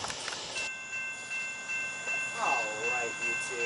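A train rolls past on the number 2 track near the Selma Smithfield station in the evening, a steady rumble with a faint distant horn-like tone, while someone talks briefly.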